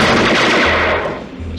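Rapid machine-gun fire from a 1960s–80s grindhouse movie trailer, a loud sustained burst of shots that tapers slightly toward the end, with no voices over it.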